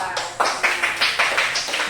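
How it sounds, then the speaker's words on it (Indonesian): A short burst of steady, rhythmic hand clapping from a small classroom group, close and bright, with a faint voice underneath. "Tepuk tangan untuk kita semua."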